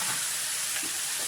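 Mixed vegetables and peas sauté in a pan for a paratha filling, giving off a steady bright sizzle with a soft hiss and light stirring.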